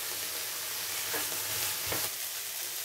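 Vegetables sizzle and crackle in a pan for rassolnik soup, a soft steady hiss with a couple of brief scraping stirs, fairly quiet and close.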